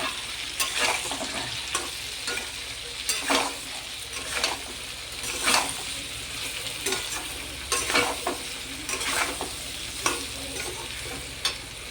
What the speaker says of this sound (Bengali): এবার এগুলোকে ভালো করে মিশিয়ে নেব।